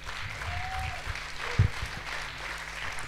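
A church congregation applauds, a short burst of clapping with a brief voice rising over it.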